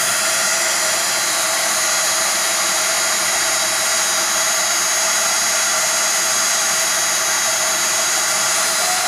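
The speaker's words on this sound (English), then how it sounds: "what we did here is basically just put some heat so that excess of beeswax that was like around these pearls and the metal embellishments" Heat tool blowing a steady, loud hot-air roar, close and unbroken, as it melts excess beeswax around pearls and metal embellishments on a French shabby altered bottle.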